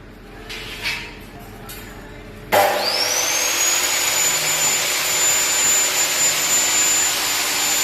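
A vacuum cleaner running off a vehicle-mounted solar power system starts abruptly after a few quiet knocks, then drones steadily with a loud, whining high-pitched motor tone that holds close and constant to the end.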